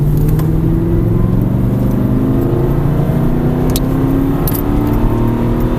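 An Aston Martin V8 Vantage accelerates hard on a race track, its engine note steady and loud from start to finish, a continuous close-up drone with layered harmonics climbing slowly and no voices over it.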